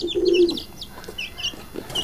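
Chickens kept in a pigeon cage cluck and chirp nearby, a short loud call followed by several softer, scattered clucks.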